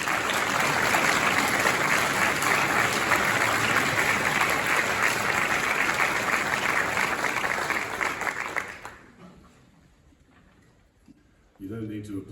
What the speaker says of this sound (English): You don't need to applaud, I haven't done anything.